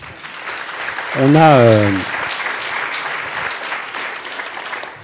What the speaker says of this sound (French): Alors on va l'applaudir.